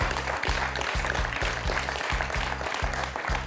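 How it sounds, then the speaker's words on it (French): Studio audience applause on a French TV quiz show, steady hearty clapping over a rhythmic music bed that pulses in regular beats underneath. "Un point pour Franck, on peut applaudir."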